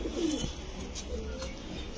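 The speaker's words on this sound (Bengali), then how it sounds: "এগুলো গিরিবাজ কবুতর।" Giribaj pigeons coo softly at a breeder's loft, giving a low, short throaty call over a steady background hum.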